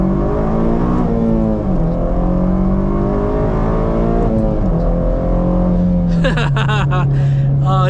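An 8th gen Honda Civic Si tuned with Hondata pulls hard through first gear, its engine note climbing steadily in pitch before a quick drop and a short rev as it shifts, loud and close from inside the car.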